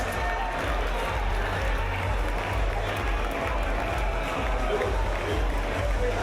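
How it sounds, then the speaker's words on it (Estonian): A crowd at a sauna marathon event in Otepää applauds and cheers the winning team, dense continuous clapping over a heavy low rumble, with voices mixed in. "teeme aplausi võitjale"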